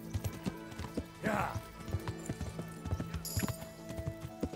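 Horse hooves clip-clop at a steady riding rhythm in the medieval game Kingdom Come: Deliverance, with a brief whinny-like swell, game music and faint talk underneath.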